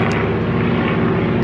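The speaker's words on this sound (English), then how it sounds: "There is a old school plane in the sky." Old propeller airplane droning steadily overhead in the sky, a broad, continuous engine rumble that holds level throughout with no talk over it.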